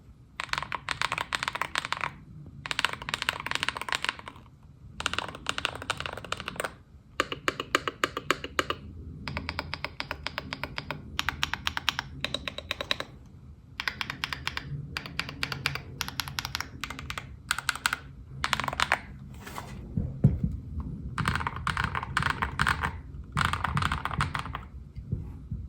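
Close typing on a silver GravaStar V60 Pro mechanical keyboard fitted with XVX silver carbon keycaps, clattering in quick bursts separated by short pauses, with no voices.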